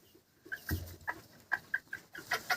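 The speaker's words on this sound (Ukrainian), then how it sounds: "А всі інші нормальні виховані кури." Mini hens cluck in short, bright bursts, several close by, with soft rustling between calls and no talking.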